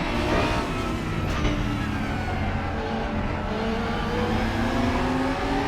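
A Lamborghini GT3 race car in the RaceRoom racing game, with the DTM pack at Zandvoort, drones loud and steady throughout as the engine revs climb and fall through the gears, with no talking.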